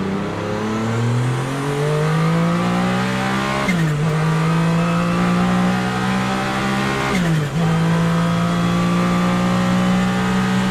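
A race car engine drones loudly and climbs in pitch through the gears, with two sharp shifts briefly dropping the revs before it rises again.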